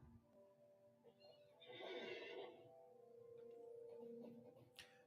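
A horse in Lord of the Rings Online gives a single drawn-out whinny, quavering and fairly clear, followed by faint clopping and clicks, quiet overall with no one talking.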